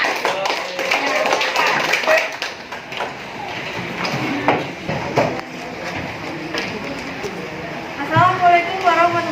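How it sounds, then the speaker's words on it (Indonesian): A junior high classroom in Jakarta breaks into dense, rapid applause for a student group, a busy patter of many hands mixed with voices chattering and calling out throughout. "Beri tepuk tangan buat kelompok."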